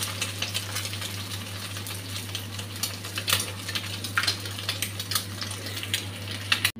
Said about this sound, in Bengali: মশলাটা গুলে রাখছি।